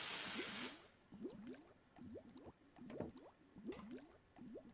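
Water gurgling and bubbling in the video game Chaos on Deponia, opening with a brief hiss and followed by a steady run of rhythmic glugging bubbles, soft and fairly close.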